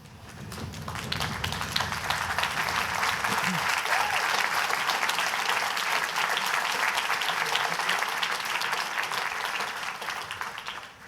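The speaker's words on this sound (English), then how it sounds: "show your appreciation to those people with a round of applause" Loud, sustained applause from a large audience at a graduation ceremony, filling the space, steady for about ten seconds, with some murmuring voices at the start.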